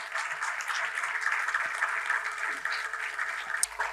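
Audience applause rolls steadily for about four seconds at a Kannada song event honouring a poet, a dense mass of clapping hands that continues evenly throughout.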